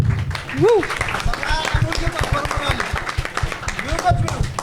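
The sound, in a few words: audience applause for the next performer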